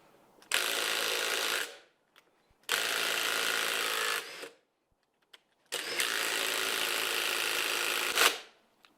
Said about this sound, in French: je prends la Ryobi et je vais essayer de défaire l'écrou qui a été serré à